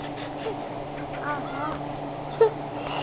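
Seagulls being fed bread on the ground call faintly from a distance in a few scattered squawks, with one sharper cry late on, over steady outdoor background noise.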